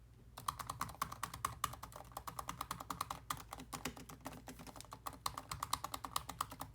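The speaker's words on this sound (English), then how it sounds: "I'll just kind of type on the keys for you. So you can hear it's a little loud." Keys on a 2018 MacBook Pro keyboard clatter in fast, loud, continuous typing and pounding, with a dense run of sharp clicks close to the microphone and no voices.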